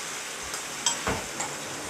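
Soft, steady sizzling of food frying in a pan while cooking spaghetti squash with ventrèche pork belly and chanterelle mushrooms, with a few light clicks and a brief stirring scrape.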